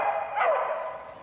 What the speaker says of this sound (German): Was ist denn das für ein Hund da unten?